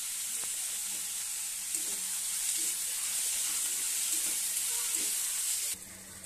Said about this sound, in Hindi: वर्तमान तेल रे सब भाजी हे गलानी, पियाज को ऐड करिबा।